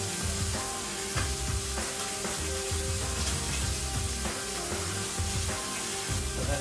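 Chicken thighs sizzle in a pan with butter, a steady, close frying hiss with crackles and spits throughout and no talking.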